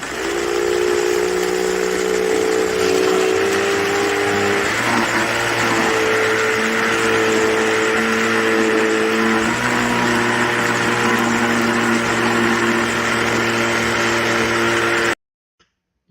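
An ice cream maker mixing Heath pieces and almonds gives a steady, loud motor drone with shifting tonal hums that resembles an outboard motor, running continuously for about fifteen seconds before cutting out abruptly.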